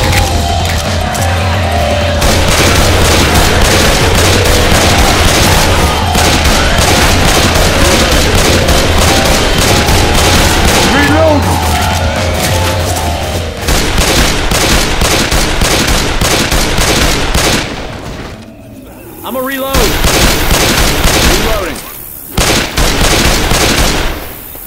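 Rapid gunfire in Left 4 Dead 2 at the Dark Carnival, mowing down clown zombies, with loud, continuous automatic bursts that break off briefly near the end before the shooting resumes.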